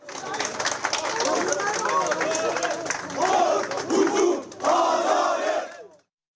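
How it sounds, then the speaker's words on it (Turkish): A crowd of supporters chants slogans and applauds as a former CHP party leader leaves after a live broadcast, loud rhythmic shouting with claps and chatter, swelling in waves before cutting off abruptly. "CHP eski genel başkanı Kılıçdaroğlu canlı yayın sonrası çıkışta slogan ve alkışlarla uğurlandı"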